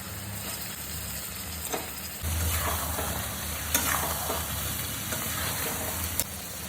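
Chicken pieces coated in paste frying in hot oil, a continuous close sizzle that grows louder partway through, with occasional stirring clicks and no talk.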